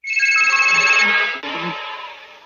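A telephone rings loudly and close with a bright electronic ringtone, one long burst that breaks off briefly and resumes more faintly.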